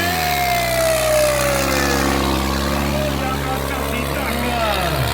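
A homemade jugaad tractor engine roars at a tractor pulling contest, a loud continuous rumbling drone with rising and falling revs, while a voice talks over it.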